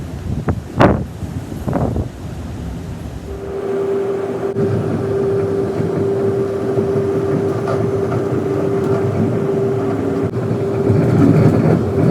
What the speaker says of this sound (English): I'm at the Spadina station, subway station